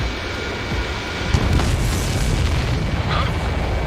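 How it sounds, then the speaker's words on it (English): Missile launch and blast in the Ace Combat 7 video game: a deep booming explosion swells at about one and a half seconds, then a sustained rumbling roar fills the rest. "Mage 2, missile launch."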